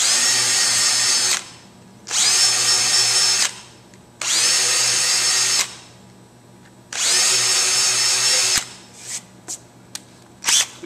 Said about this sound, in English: So you're only countersinking just a little bit, not too much on those, on both sides here as well